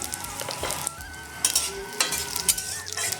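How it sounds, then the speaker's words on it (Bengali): Whole dry red chillies and panch phoron sizzle in oil in a wok, a close, steady crackling fry punctuated by sharp pops and spatula scrapes at irregular intervals. "কড়াইতে আরও আমি কিছুটা তেল দিয়ে ফোড়নে দিচ্ছি গোটা শুকনো লঙ্কা আর পাঁচ ফোড়ন"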